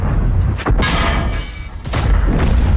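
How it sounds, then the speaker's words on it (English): A tank cannon in World of Tanks fires at the turret of a Mouse tank: two deep, booming shots a little over a second apart, each followed by a heavy rumbling tail. "I want to pretty much shoot him right in the face of his turret"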